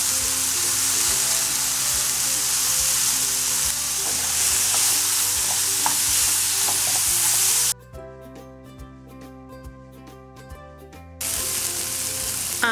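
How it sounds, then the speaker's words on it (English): Onions and mushrooms saute in a pan with a steady, loud broadband sizzle and occasional stirring scrapes, broken by a few seconds of tonal music in the middle before the frying noise returns. "We have our sauteed onions and mushrooms"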